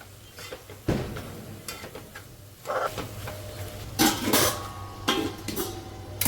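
Several clinks and knocks of a lid and metal cookware over a quiet background as a lid goes onto a pot of dried-fish sukat after the gas stove is switched off in a home kitchen.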